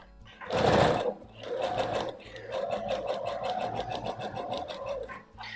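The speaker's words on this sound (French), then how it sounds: "C'est plus facile de faire ça à la machine à coudre qu'à la main" A sewing machine runs stitches through fabric to gather it for a wrap dress, giving a close, steady, rapid mechanical whirr with a regular pulsing rhythm after a brief louder burst at the start.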